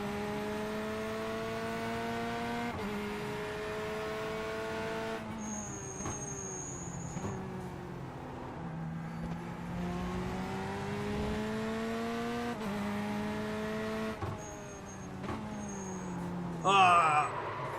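A race car engine in the iRacing sim at Watkins Glen drones steadily, its harmonic whine climbing and dropping through gear shifts and braking, with a person talking over it.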